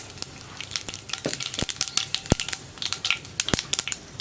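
Mustard seeds dropped into hot coconut oil in a pan, giving close crackling sizzle with sharp pops and crunchy bursts scattered throughout, no voices.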